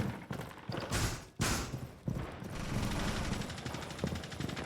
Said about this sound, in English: We're already hearing gunfire and breaches.